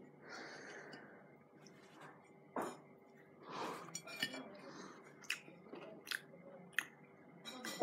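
Crunchy bites and wet chewing of breadcrumb-coated fried eel-tailed catfish, close up, with scattered sharp crackles and clinks among soft background murmurs.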